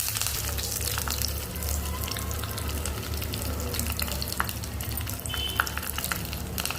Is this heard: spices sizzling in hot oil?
yes